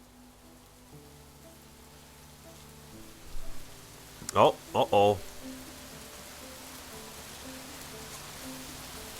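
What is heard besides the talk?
torrential rain in video game Rising World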